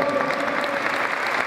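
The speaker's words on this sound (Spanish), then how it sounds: "a quien recibimos con fuertes aplausos" Steady applause from an audience welcoming a town mayor at a local teachers' event, dense continuous clapping filling the room.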